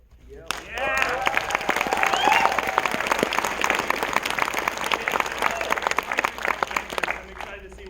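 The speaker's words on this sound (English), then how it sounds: "One more round of applause for our crew" An audience at a premiere Q&A for the film Hidden Creek applauds the crew, a dense burst of clapping with a few cheers that starts sharply, holds steady for several seconds and fades near the end.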